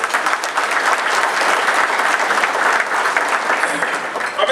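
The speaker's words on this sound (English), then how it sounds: "Let's give our president a round of applause for it." Sustained applause from a luncheon audience for the president of Texas Southern University, steady and full-bodied throughout, with no speech over it.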